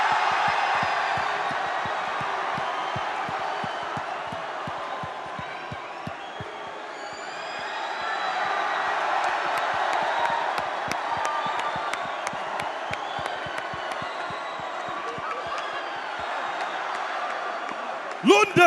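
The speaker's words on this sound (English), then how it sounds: "a big London round of applause for True Geordie" A London crowd applauds and cheers for True Geordie at a boxing press event, a steady roar of claps and shouts that stays fairly distant and continuous, with a brief louder burst at the very end.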